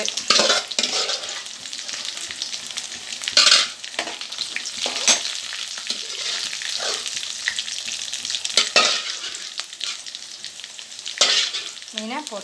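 Washed fish frying in hot oil in a pan, a dense continuous sizzle and crackle with a few sharper spits and stirring scrapes, close and loud with no talking.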